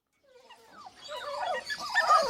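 A young American Cocker Spaniel puppy in a pet shop gives a run of thin, rising whimpers and squeaky yelps that grow steadily louder and busier over a couple of seconds, heard close up with no talking.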